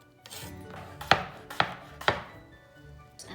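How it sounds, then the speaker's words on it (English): A knife cuts through peeled mango on a cutting board, giving three distinct, evenly spaced chops with sharp board knocks, close and clear, with no talking. "We will peel it and then cut it into the same slices."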